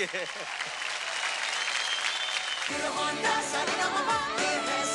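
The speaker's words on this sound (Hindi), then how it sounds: "जोरदार तालियां" Studio audience at a televised singing competition breaks into loud sustained applause, dense clapping that swells midway, with a voice speaking over the start and music-like tones mixed in.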